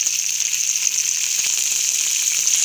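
Capsicum frying with onion, garlic and ginger gives a loud, unbroken hiss of hot oil that continues through the whole stretch with faint ticks underneath and nobody speaking.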